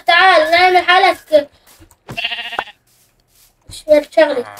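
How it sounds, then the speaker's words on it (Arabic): A sheep on a rooftop gives wavering bleats, one long quavering call followed by a shorter cry, several bursts separated by silences, loud and close. "خروف ايه على السطح"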